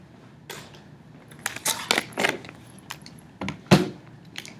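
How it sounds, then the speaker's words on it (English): Calculator keys being tapped, a quick irregular run of close, crisp clicks, a few clustered together and then single presses. "You can type in -16 divided by 64 in your calculator"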